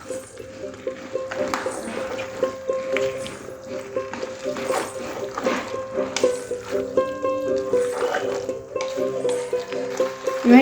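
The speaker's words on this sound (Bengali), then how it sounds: "ভালো করে নেড়ে নেব।" Marinated chicken pieces for chilli chicken stirred in a frying pan, with steady sizzling broken by repeated scraping and clinking of the utensil against the pan.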